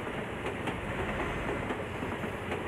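A train rolls past in Euro Truck Simulator 2, a dense steady rumble with faint rhythmic clacks running through it.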